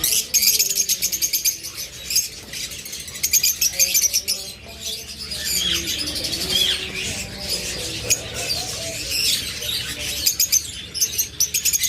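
Pet lovebirds, cockatiels, budgerigars and finches chirp, tweet and squawk densely and continuously, many birds close together with occasional wing flaps.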